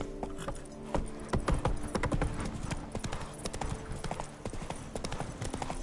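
Roach the horse's hooves clip-clopping on ground in The Witcher 3, a close, busy rhythm of hoof strikes with brief louder impacts.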